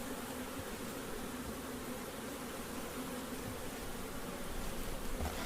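Honey bees swarm around an opened long hive, making a dense, steady droning buzz that holds evenly throughout, close and continuous with no voices.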